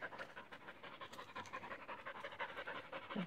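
A dog pants rapidly and steadily up close, quick rhythmic breaths continuing throughout without pause.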